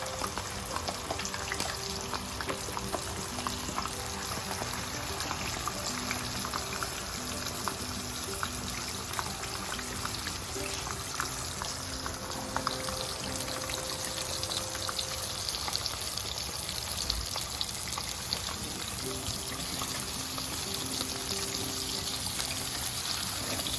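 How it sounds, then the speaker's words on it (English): Oil heating in a pan for frying potatoes at home in Louisiana gives a steady, continuous sizzle and crackle with a faint watery hiss, unbroken for the whole stretch and with no talking. "And here we are heating up the oil for the potatoes."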